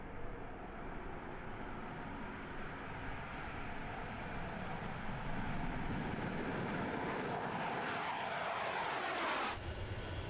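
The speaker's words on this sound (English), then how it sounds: "These Su-25 fighter jets, NATO codenamed Frogfoot at the Russian Aviation Center in Lipetsk" Su-25 Frogfoot jet aircraft at the Russian aviation center in Lipetsk, a broad roaring engine rush building louder with a sweeping pass toward the end.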